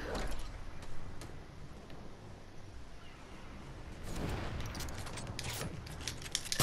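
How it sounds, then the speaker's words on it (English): Sniper gunfire in the Fortnite video game, scattered sharp shots and cracks, mostly in a burst toward the end, over a low game-noise background. "Sniper battle"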